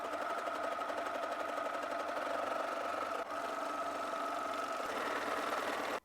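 A Viking sewing machine motor runs steadily and close up, a smooth continuous whir with a brief dip near the middle, then cuts off abruptly at the end.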